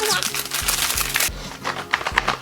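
Close, crisp crinkling of plastic packaging from an Apple Watch band being unwrapped, in short bursts, with scattered rustles and faint handling sounds in between.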